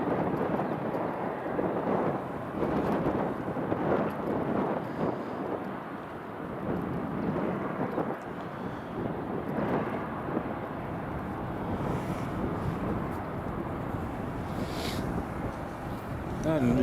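A Ryanair airliner taxiing at Edinburgh Airport, a low, steady engine rumble heard from a distance through gusting wind noise, with a voice speaking over it.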